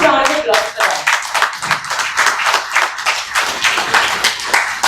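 Loud, close rhythmic clapping at a kids' public speaking talent hunt, with distinct beats from many hands, as a voice briefly sounds at the start.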